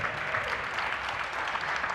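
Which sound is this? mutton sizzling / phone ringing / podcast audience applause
podcast audience applause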